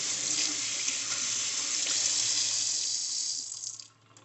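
Tap water runs steadily into a sink while makeup brushes are rinsed, a close, even hiss that cuts off near the end.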